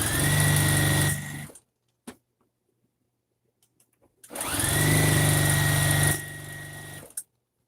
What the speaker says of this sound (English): I'm just going to sew them together.